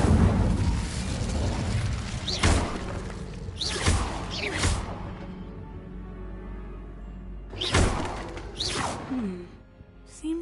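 Incendio fire spell cast in Hogwarts Legacy: several whooshing fiery bursts roar up one after another, each a sudden blast fading away, with quieter gaps between them.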